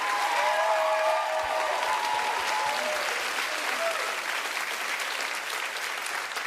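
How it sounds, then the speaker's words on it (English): Audience applause at the Sky Arts Awards ceremony at the Roundhouse in London, a broad, sustained wash of clapping from a large crowd, steady throughout with a faint voice audible early on. "Everyone, please give another round of applause for this year's Sky Arts Hero, Diane Carroll."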